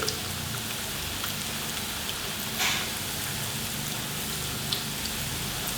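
Flour batter dropped into hot oil for a snack, frying with a dense, continuous crackling sizzle like fine rain, with one brief louder burst partway through.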